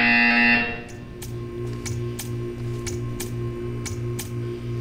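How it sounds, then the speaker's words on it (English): A buzzer from the video game Portal 2 sounds in one loud, steady burst, then gives way to a run of evenly spaced ticks over a pulsing low hum. "You will hear a buzzer."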